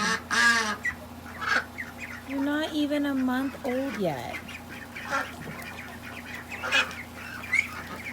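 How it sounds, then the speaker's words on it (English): Ducklings peep and chirp in short bursts close by, with a person talking softly over them and a steady low hum underneath. "Look at how big all these ducklings are."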